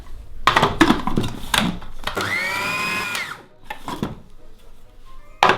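A food processor whizzes an egg into cookie mixture in a short, steady motor whir of about a second, with knocks and clatter of handling before and after.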